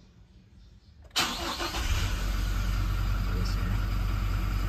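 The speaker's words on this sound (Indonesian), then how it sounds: "start up suara mesin." A Toyota Innova Reborn 2.4 diesel engine cranks and fires abruptly after quiet cabin sound, then settles into a loud, steady, close diesel idle, with a brief voice speaking over it.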